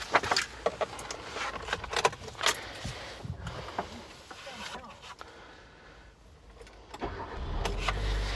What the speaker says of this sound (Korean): 시동 한번 걸어보겠습니다